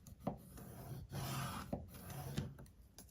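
A scoring tool drawn across vellum paper, several short, soft, scraping strokes in a repeating pattern, quiet and close.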